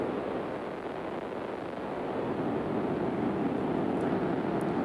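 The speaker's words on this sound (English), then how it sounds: "Sounds like we're in like a volcano or something." A deep, volcano-like rumble made through sound design in Ableton rolls on as a steady, dense wall of low noise, constant and fairly loud throughout with no voices.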